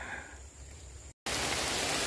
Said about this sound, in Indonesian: Malah hujan sahabatku.